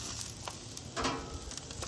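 Steady, crackling sizzle of beer bratwurst sausages cooking on a bed of red onions on a hot grill, continuous and fairly close throughout.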